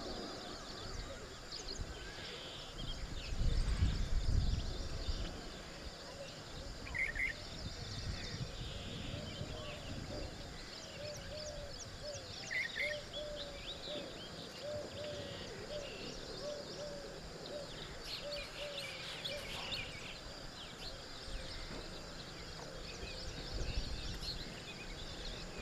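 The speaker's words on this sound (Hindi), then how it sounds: "पक्षियों का आवाज सुनना चाहिए शांत बैठकर" Birds calling outdoors in a calm setting, soft repeated hoot-like and cooing calls drifting at a distance over a low, steady background hush.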